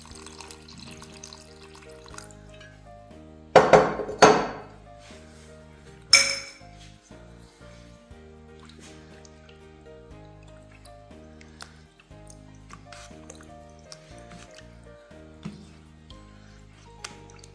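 A kilo of aloo bukhara plums is washed in water in a bowl. Soft splashing and trickling run throughout, broken by a few sharp clinks and knocks from the bowl.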